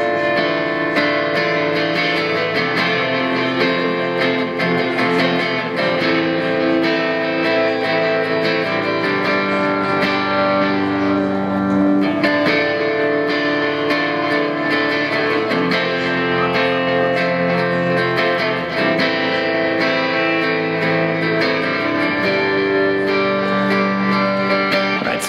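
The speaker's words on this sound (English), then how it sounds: "the dry tone of the guitar on this song is going to sound like this." Guitar through a very light overdrive pedal, a steady sustained chordal tone playing continuously at even loudness with no talking.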